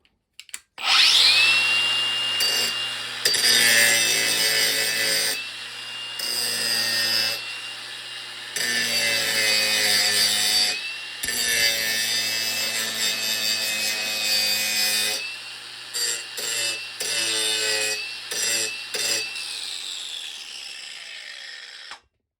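A Hercules angle grinder chews into wood in several close, loud bursts, its high motor whine starting and stopping repeatedly with brief pauses between passes.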